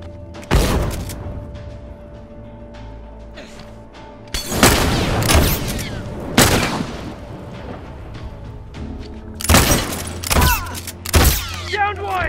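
Several heavy, booming blasts from a bomb detonation in The Last of Us, arriving in loud bursts separated by quieter rumbling gaps, with a few sharp cracks near the end.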